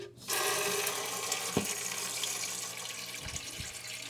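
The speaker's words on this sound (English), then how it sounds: "Hold your hose in your bucket and turn on the water supply." Water from a toilet supply hose rushes steadily into a bucket, a continuous close splashing hiss that starts abruptly and runs unbroken with a few small knocks.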